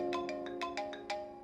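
Electronic phone ringtone repeating in a steady pattern of six short bright chirps over a sustained tonal bed, loud and close with no talk.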